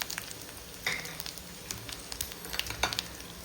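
Tempering spices such as cumin and chilli sizzle in hot oil for mudakathan dosa, a close crackling fry with bursts of sharp popping, and no one speaks over it.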